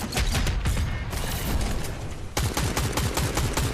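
Rapid gunfire rattles through a Fortnite match, loud and close, as dense automatic bursts continue with only a brief dip in intensity before the fast shots pick up again.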